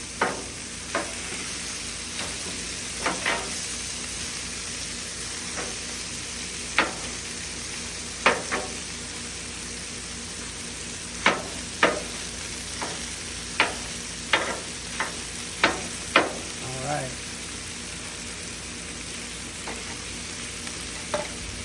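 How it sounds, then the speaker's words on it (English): Burgers on a hot griddle sizzle steadily while a metal spatula chops through them, making sharp scraping clacks every second or two over the constant frying hiss. "So I'm just gonna chop this up a little better, each of the burgers."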